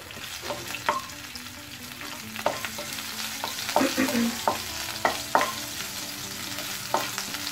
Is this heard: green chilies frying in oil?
yes